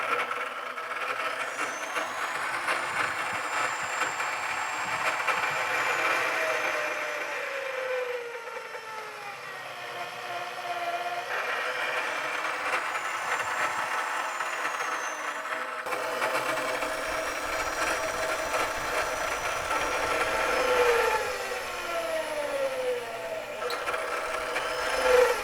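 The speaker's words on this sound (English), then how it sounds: "Okay, so let's drill a hole with it." Homemade drill press running a twist drill bit just over a quarter inch, a steady motor drone with whining pitch sweeps rising and falling as the bit works, continuous and fairly close.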